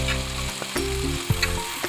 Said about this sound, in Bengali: সামান্য একটু জল দিয়ে আবার নাড়াচাড়া করে নেব